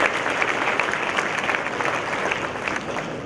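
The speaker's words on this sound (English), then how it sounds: "I would like to give them a big applause to them for the wonderful work they are doing." An audience at a valedictory event breaks into steady, dense applause, a loud, continuous wash of clapping from many hands throughout.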